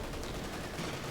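Continuous gunfire from infantry and machine guns in the World War II strategy game Company of Heroes 2, a dense, steady crackle of shots with no pauses and no speech.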